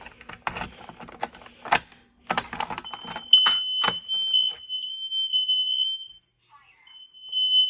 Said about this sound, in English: No, let's pull a fire alarm.